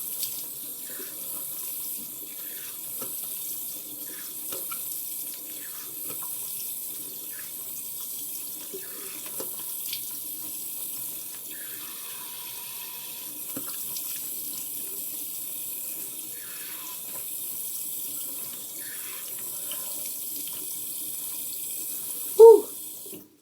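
Cold tap water runs steadily into a sink during a face rinse, a soft, continuous splashing hiss with a few faint clinks and one brief louder knock near the end.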